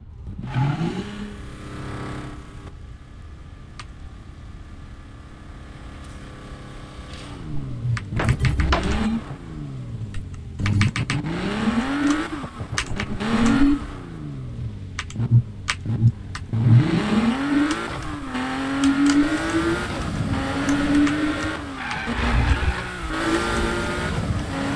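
A Porsche 911 Carrera RSR revs hard in a racing game, its engine note rising and falling through repeated upshifts and climbs, loud and continuous, with a short tire squeal along the way.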